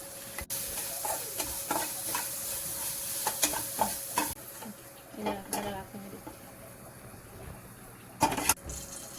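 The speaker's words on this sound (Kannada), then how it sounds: "ಒಂದು ಬಾಣಲಿಗೆ ಉಪ್ಪು ಮತ್ತು ಕ್ಯಾಪ್ಸಿಕಮ್ ಹಾಕಿ ಅದನ್ನು ಹುರ್ಕೊಂಡು ಇಟ್ಕೊತೀನಿ." Capsicum frying with salt in a pan, a faint, steady sizzle with occasional soft stirring scrapes and clinks, quiet and close.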